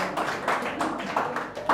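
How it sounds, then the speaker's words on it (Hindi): Twelfth-grade students in a class clap to welcome the start of their course, with a brief scatter of hand claps at low level and murmuring voices mixed in. "स्वागत है तो कम से कम ताली तो बजाओ"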